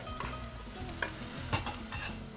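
Green chillies and onions sauté in a pan with a steady sizzle, broken by a few sharp scrapes and clinks of stirring at close range.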